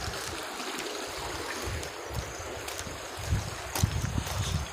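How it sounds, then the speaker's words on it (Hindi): Water rushes steadily through flooded village fields, a continuous broadband wash with some wind buffeting and a few louder splashy surges toward the end. "संगे संगे ये पानी के धार देखो इतना पानी जाते हैं"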